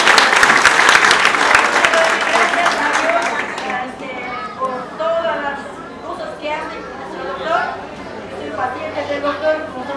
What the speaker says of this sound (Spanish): Aplausos para el agua